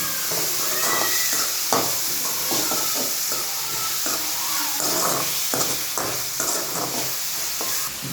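Chopped onions and tomatoes fry in a pan for pasta sauce, a loud continuous sizzle broken by repeated scraping and clacking as a spoon stirs them.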